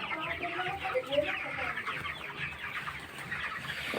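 Young broiler chickens, three weeks old, cluck and chatter continuously on a poultry farm in winter, a dense flock of overlapping calls at close range with no speech.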